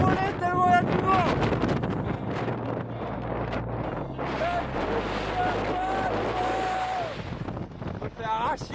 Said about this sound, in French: Je vais m'envoler tellement il y a du vent.